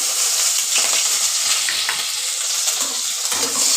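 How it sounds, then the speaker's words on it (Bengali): Chopped garlic and green chilli sizzle in hot leftover oil from frying paneer in a kadai, a loud steady hiss with scraping stirring strokes throughout, no talking. "পনির ভাজার তেলটা এবার আমি দিয়ে দিচ্ছি রসুন আর কাঁচা লঙ্কা কুচি"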